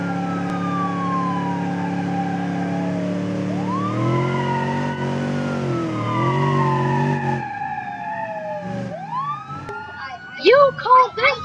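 A police siren on a battered vehicle in BeamNG Drive, its roof partly torn off, wails in long rising and falling sweeps, loud and steady, then shifts to faster yelping bursts near the end.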